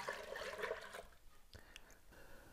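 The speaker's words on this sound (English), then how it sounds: "I'm going to pour my quart of milk in here" A quart of milk pouring into an Instant Pot pressure cooker for homemade yogurt, a faint steady liquid stream that tapers off after about a second, followed by light clinks and soft handling noises.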